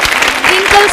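An audience at a televised music quiz show for a women's polytechnic anniversary applauds steadily throughout, a dense continuous clatter of clapping with a host's voice faintly over it.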